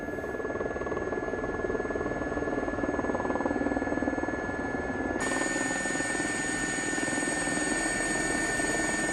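A Gazelle helicopter in a flight simulator game, its engine and rotor giving a steady close drone with high whine tones that shift slightly midway, continuous and unaccompanied by speech.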